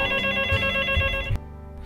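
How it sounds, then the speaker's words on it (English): A telephone ringtone trills steadily with bright, repeating electronic tones, then cuts off abruptly near the end, leaving quiet hum. "a telephone or cell phone ring,"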